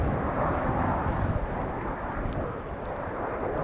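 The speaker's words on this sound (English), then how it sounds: "it's going to be a landing on runway 24" An airplane landing on runway 24 at Amsterdam Schiphol in windy conditions makes a continuous, loud, broad engine roar mixed with wind buffeting throughout.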